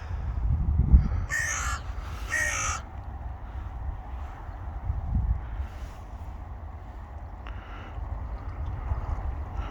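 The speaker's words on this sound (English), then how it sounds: "Hello Mr. Crow." A crow caws twice in quick succession, loud and fairly close, on a coastal path along an old sea defence near Colwyn Bay in North Wales, with wind rumble and faint distant calls around it.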